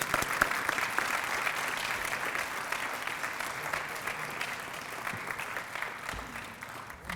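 Audience applause at a youth council career graduation and scholarship event, a sustained mass of clapping from a large crowd heard at some distance, with scattered crisp claps that thin slightly toward the end.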